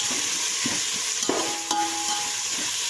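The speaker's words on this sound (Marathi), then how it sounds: "आता कांदा परतून घेते मी" Chopped onion frying in a pan while being stirred, giving a close, steady sizzle with a couple of brief spatula scrapes and taps and no talking.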